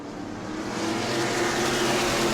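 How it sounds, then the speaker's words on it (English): Race cars roll off to start an 8-lap heat race at New Smyrna, with engines droning and building steadily in loudness, the roar rising over a couple of seconds. "Here they come, 8-lap heat race, set to go."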